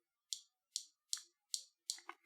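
Five sharp, close clicks come at an even pace as the blade of an Artisan Cutlery Weyden Nitch folding knife snaps shut against its stop pin, with a quicker double tick at the end in near silence.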